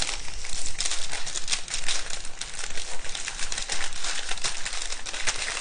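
Parchment or baking paper crinkles steadily while a log of gluten-free, grain-free ANZAC-style cookie dough is rolled up in it, giving a continuous close, dense rustle with no voices.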